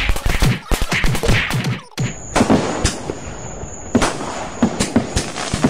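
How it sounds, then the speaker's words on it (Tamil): Rapid crackling bursts of Diwali firecrackers going off in a dense string, sharp pops piling on one another, with a brief pause before another volley. "என்னமா பட்டாஸ் வெடிக்கலாம் இங்கே நின்னுட்டு"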